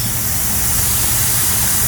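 Steady, loud hiss of water jetting from a hose nozzle, a continuous spray with no pauses or voices.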